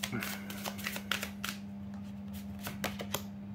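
Tarot cards being shuffled by hand for a reading, a quick series of soft riffling flicks and taps up close, with a steady low hum underneath.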